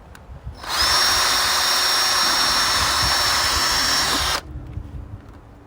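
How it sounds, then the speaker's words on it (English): A power drill whirs loudly with a high, steady whine for several seconds, drilling a mounting hole for a splash guard on a 2021 Ford Bronco, starting and stopping abruptly against quiet room noise. "We'll drill the top one."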